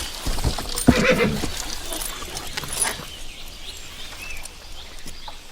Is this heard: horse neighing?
yes